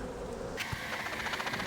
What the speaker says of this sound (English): Just a wad of bees on here.